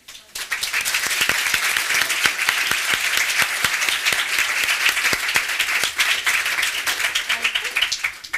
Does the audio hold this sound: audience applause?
yes